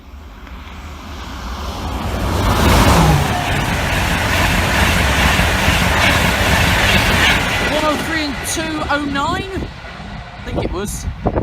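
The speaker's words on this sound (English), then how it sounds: "this is 108 from King's Cross to Edinburgh Waverley" A King's Cross to Edinburgh Waverley express passes a level crossing, a loud close roar building and holding for several seconds before easing, with voices talking over the tail end.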